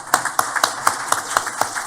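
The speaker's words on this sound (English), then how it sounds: "a round of applause for being our moderator this evening" Audience applause at an evening public candidate forum in a town hall setting, heard as a steady run of sharp, evenly spaced claps from a smallish crowd, fairly close and without speech.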